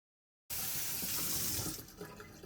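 Tap water gushes suddenly and loudly into a kitchen sink, a steady close rush as a cheesecloth used for straining milk is rinsed, easing slightly toward the end.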